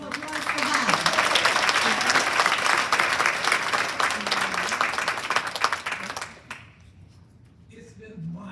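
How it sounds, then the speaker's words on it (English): Audience applause at a resident council meeting, a sustained burst of dense clapping from a room of people lasting about six seconds before dying away into quiet murmuring. "So hand of applause for Bob."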